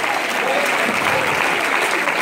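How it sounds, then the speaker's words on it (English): A church congregation claps steadily through a live preaching event in Fort Myers, dense applause filling the space without a break, with a voice faintly audible under the clapping. "Come on, clap your hands."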